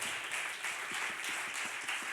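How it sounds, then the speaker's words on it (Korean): A church congregation at a Sunday youth worship service claps to congratulate someone, producing a soft, distant wash of applause with faint rhythmic hand strikes throughout. "우리 큰 박수로 축하하도록 하겠습니다."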